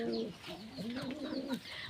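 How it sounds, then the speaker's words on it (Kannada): Several pigeons coo in low, rolling throaty calls that overlap close by, in a home's bird enclosure, with a steady chorus and no talk. "ಎಷ್ಟು ಪಾರಿವಾಳ ಇದೆ ಅಂತಂದರೆ ನೋಡಿ"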